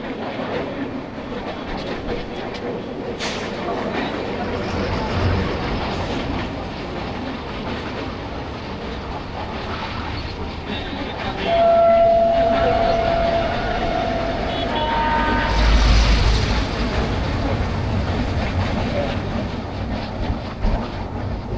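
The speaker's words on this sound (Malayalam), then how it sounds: "ഒരു ട്രെയിനും കൂടെ വരുന്നുണ്ട്." A train crosses the new Pamban bridge at Rameswaram with a steady rumble and rattle of wheels on track. Brief horn blasts sound from middle distance, and wind noise runs throughout.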